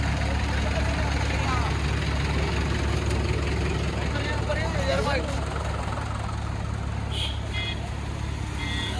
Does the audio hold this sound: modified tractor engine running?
yes